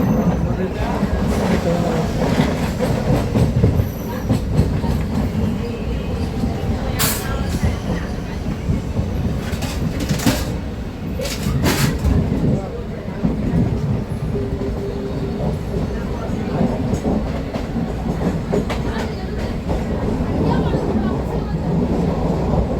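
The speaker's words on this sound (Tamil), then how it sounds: "Chennai central to Gummidipoondi local train" A Chennai Central to Gummidipoondi 12-car local electric train runs with a loud, steady rumble and clatter of wheels on rails, broken by a few sharp bursts, while voices talk faintly throughout.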